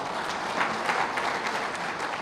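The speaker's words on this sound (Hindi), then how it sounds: "एक बार ताली बजाओ पोलिंग एजेंट के लिए" A large crowd claps at a political rally in Jharkhand with Shivraj Singh, a dense, continuous wash of applause, fairly close and loud, with no voice above it.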